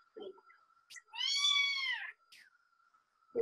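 A kitten gives one clear, drawn-out meow of about a second, close to the microphone, with a few faint shorter squeaks before it and a steady high background whine.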